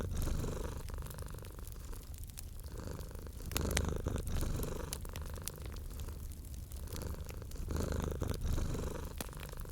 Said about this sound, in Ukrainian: Чуйте, як він мурчить, як його тепло змішується з вашим.